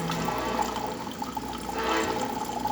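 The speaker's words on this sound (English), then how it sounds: "steady stream coming out of the machine" Steady rushing of hot water pouring from a Gaggia Anima Deluxe espresso machine in a continuous stream, with a low machine hum underneath, no voices.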